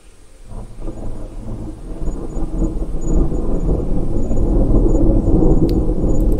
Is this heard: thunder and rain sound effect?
yes